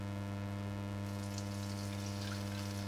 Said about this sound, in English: right now I'm going to add half a cup of water